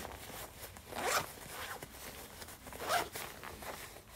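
A zipper on a jacket pocket is pulled in two raspy strokes about two seconds apart, close up and fairly quiet, with no talking over it.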